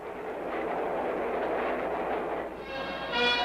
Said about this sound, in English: train with several private cars carries the Emperor and his official party swiftly to Washington